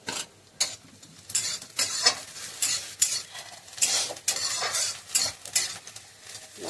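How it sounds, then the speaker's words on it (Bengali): Onions sizzle and fry in a pan while a utensil stirs them, scraping and clinking against the metal in irregular bursts, close and clear with no talking. "পেঁয়াজটা ভালো করে ভেজে নাও।"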